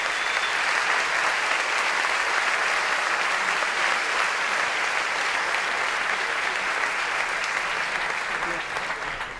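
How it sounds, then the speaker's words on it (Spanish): A conference audience applauds, a dense, even wash of clapping that holds steady and loud for the whole stretch with no break, alone without talk. "pido un fuerte aplauso para ellos"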